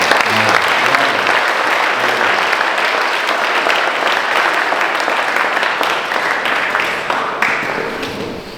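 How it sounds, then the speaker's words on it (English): Youth concert audience at a worship gathering claps for itself, sustained dense applause that stays loud for several seconds and then gradually tapers near the end. "Please let us clap for ourselves."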